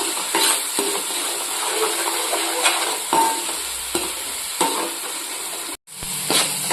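Onion paste frying in oil in a pan for a fish curry, a steady close sizzle with a spoon scraping and stirring through it and one brief dropout near the end.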